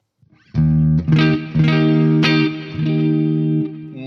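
An electric guitar played through a BT MkV pedal on preset C rings out in a few sustained, overdriven chords with a glassy reverb tail, loud and alone.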